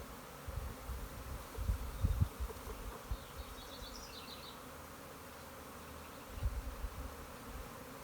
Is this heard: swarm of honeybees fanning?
yes